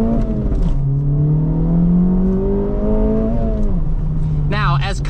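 Acura Integra Type S engine revving during a rev-matched downshift, a close in-cabin engine tone rising and falling in pitch with a quick blip near the end, heard under a voice talking.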